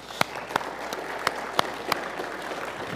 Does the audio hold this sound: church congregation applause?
yes